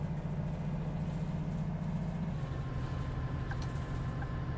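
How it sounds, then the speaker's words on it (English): A bus engine in the video game Bus Simulator 18 rumbles steadily at a low, continuous drone, with a slight shift in pitch partway through as the gears change and no talking over it. "Engine sounds are pretty good."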